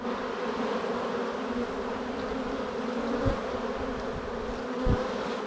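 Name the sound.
honey bees buzzing around hive frames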